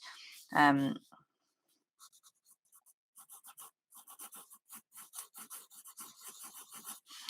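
A pencil scratches across paper in soft, short strokes, faint and close, following a brief spoken sound at the start.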